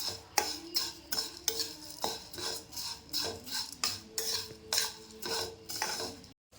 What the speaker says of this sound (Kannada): ಈಗ ಶಾವ್ಗೆ ತೊಗೊಂಡ್ವಿ, ಶಾವ್ಗೆ ಫ್ರೈ ಮಾಡ್ತೇವೆ ಈಗ.